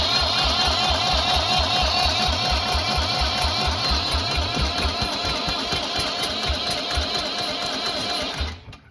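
A Perkins 152 diesel engine in a Massey 240 tractor runs with heavy blow-by, chugging loud and close in a steady, rapid low rhythm before cutting out abruptly near the end.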